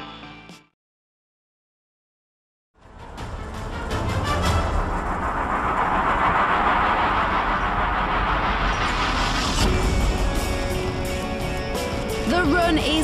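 An electric land speed record car making a run on the Bonneville salt flats in Utah, a loud steady rushing roar that builds after a brief silence and holds strongly to the end.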